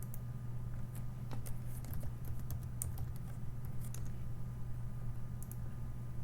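Light, quick keystrokes on a computer keyboard, faint and irregular clicks over a low steady hum, with no one talking.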